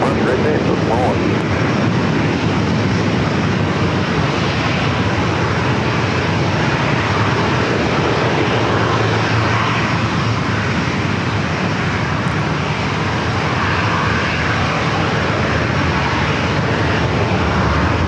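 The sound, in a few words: Boeing 737-900ER jet airliner arriving from Chicago O'Hare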